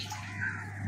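Water running into a household water tank as it fills, a brief steady gushing flow with a low constant hum beneath it.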